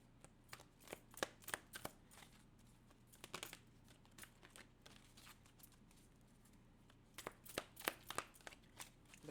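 Tarot cards being drawn and shuffled, soft close papery snaps and riffles coming in short bursts separated by quieter pauses.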